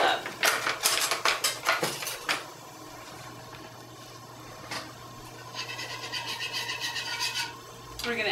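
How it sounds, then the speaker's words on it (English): A wire whisk clatters rapidly against a metal pot of thickening sauce in quick bursts, pausing briefly before the scraping rhythm resumes; a voice speaks quietly in the background. "you're going to whisk it for about 5 minutes until the sauce thickens up."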